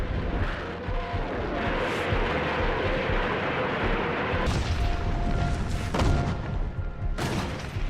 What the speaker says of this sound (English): the Soviets obliterate the enemy's lines, pounding them with the rocket launchers they call Stalin's organs